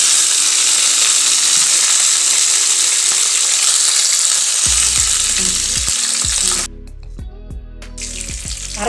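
Chana dal, asafoetida, a single chilli and curry leaves fry in hot oil as a tempering, giving a loud, dense sizzle close by that eases into a quieter crackle with scraping stirs.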